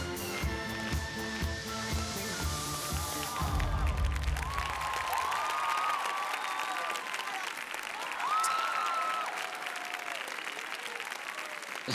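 Arena crowd at the Grand Prix de France 2024 ice dance rhythm dance event bursts into sustained applause and cheering as music ends, a dense roar of clapping with scattered shouts and whistles over a commentator's voice.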